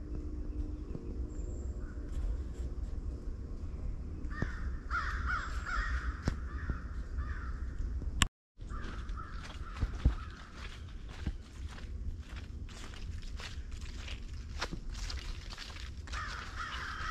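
Crows caw loudly and repeatedly from nearby trees during a solo hike in the rain, harsh calls coming in bursts over steady rainfall and a few footsteps, with a brief dropout midway.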